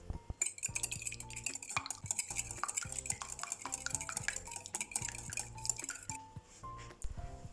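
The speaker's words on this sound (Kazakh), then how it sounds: "Үстіне алдын ала ерітіп алған сары майды құйып араластырамыз." A utensil stirs melted butter into beaten egg in a bowl for baklava dough, giving a steady, close run of scraping and clinking strokes with no talking.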